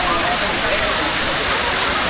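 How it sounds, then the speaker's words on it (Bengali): The roar of Bamni Falls in Purulia, a dense, loud, continuous rush of falling water filling the whole scene at close range, with a voice speaking over it. "এই হচ্ছে বামনি ফলস।"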